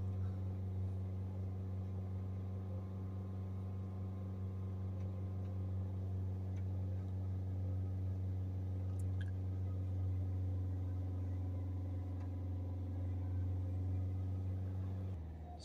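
A Ford Focus C-Max 1.6 TDCi diesel engine held steady at about 3,000 RPM, a loud, even droning hum with no pauses, running continuously before dropping slightly at the very end.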